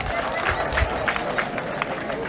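A crowd at a political gathering applauds for Maungu, with dense, steady clapping and cheering that carries on for the whole stretch, a murmur of voices mixed in.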